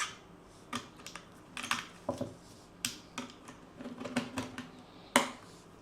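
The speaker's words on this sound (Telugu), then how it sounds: "ఈ ఛార్జర్లో బ్యాటరీ పెడదాము" Plastic clicks and snaps come as a battery is fitted into a spring-type charger for an automatic waterproof light, a string of short, close, faint taps at uneven intervals.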